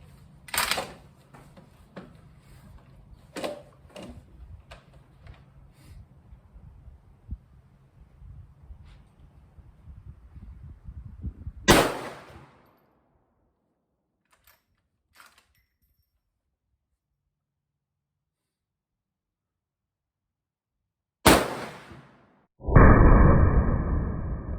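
Several sharp, loud gunshots from a Ruger American Rifle in .450 Bushmaster with a weighted stock at a shooting range, separated by long quiet gaps, with light handling noise between reports.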